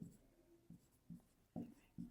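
A pen writing numbers on paper during a math lesson, five short scratchy strokes in an uneven rhythm, close and soft, with no talking.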